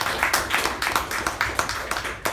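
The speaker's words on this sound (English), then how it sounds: "A big round of applause." Clapping from a small group at a Toastmasters meeting, fairly quiet, with a loose rhythm of distinct claps repeating about every quarter second.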